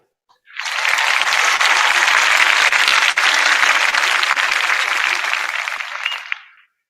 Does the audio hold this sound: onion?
no